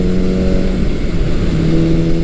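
A Suzuki GS550 motorcycle revs loudly through its dual exhaust on the road, a steady, throaty mid-pitched engine roar that holds without pause.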